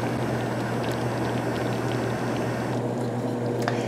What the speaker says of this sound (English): So we're going to let it simmer until it's at the right consistency